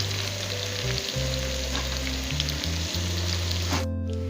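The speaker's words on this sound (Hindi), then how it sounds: "ये लहसुन अदरक फ्राई हो गया" Garlic and ginger fry in hot oil in a pan, a steady loud sizzle with a faint stirring scrape partway through, then a brief louder crackle near the end, no voices.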